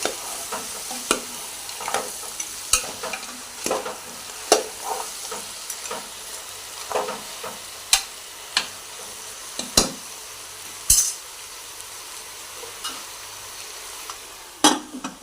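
Telangana-style goat head curry fries in oil with a steady, soft sizzle, while a spoon repeatedly clinks and scrapes the pan as it is stirred.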